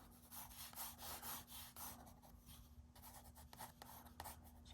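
A dark red pencil scratching across paper as a dog's face is drawn, with soft, close, irregular strokes in short bursts separated by brief pauses.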